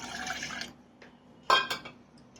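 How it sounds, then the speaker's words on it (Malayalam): A short splashy pour of water into a container for lemon juice, followed by a couple of sharp glassy clinks, close and fairly loud. "ഇതിൻ്റെ അകത്ത് കുറച്ച് വെള്ളം ഒഴിച്ചു കൊടുക്കാം."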